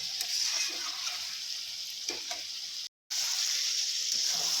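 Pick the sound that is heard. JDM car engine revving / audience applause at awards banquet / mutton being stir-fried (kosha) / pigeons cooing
mutton being stir-fried (kosha)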